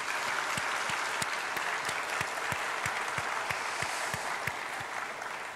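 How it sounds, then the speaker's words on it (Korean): A church congregation at a Sunday afternoon service gives sustained applause in encouragement, a broad continuous wash of hand claps with a steady rhythmic low thump beneath, moderately distant and fading slightly at the close. "박수하겠습니다."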